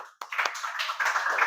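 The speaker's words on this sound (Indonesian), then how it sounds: "Tepuk tangan." A class of students applauds together, a dense burst of clapping that starts abruptly and keeps a steady, fairly close patter for over a second.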